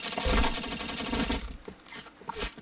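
Rapid automatic gunfire from the shooter game Point Blank rattles loud and continuous for over a second, then gives way to a few scattered shots and softer game noises.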